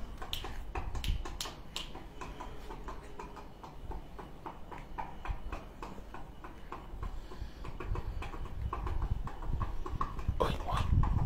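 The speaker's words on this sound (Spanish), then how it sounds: "se oyen caballos" Horse hooves clip-clopping steadily on a hard surface, a continuous run of sharp knocks at close range, with a louder clatter near the end.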